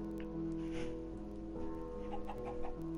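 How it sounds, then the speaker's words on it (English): Chicken clucking in a video game, several short clucks over a steady layer of game music and ambient noise, moderately loud with no talking. "And there's a chicken."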